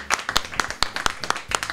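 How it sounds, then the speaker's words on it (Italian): A small audience at an Italian book presentation claps in a sparse, uneven run of distinct handclaps, crisp and fairly close, lasting under two seconds with no talk over it. "Vai, grande applauso."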